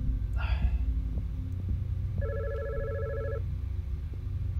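A telephone rings in the horror video game God's Basement, its electronic double-tone bursts standing out over a low, throbbing ambient hum, with no talking.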